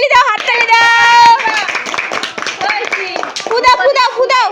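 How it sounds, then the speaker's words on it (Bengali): Children clapping their hands at a little girl's birthday party, quick scattered claps mixed under loud voices chanting and singing. "হাততালি দাও, হাততালি দাও, হাততালি দাও"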